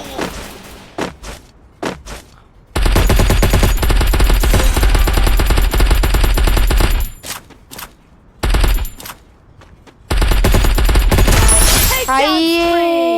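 Sustained bursts of machine gun fire in the video game Free Fire, long loud rattling volleys with short pauses between them, followed by a brief electronic game effect at the end.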